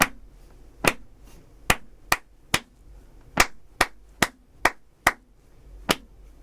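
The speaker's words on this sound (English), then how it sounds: "you'll hear the metronome go 1, 2, 3, and then you'll hear something like this" A metronome counts in with about ten crisp, clap-like clicks in a steady beat, with a couple of brief gaps. The clicks sound close and alone, with no voices.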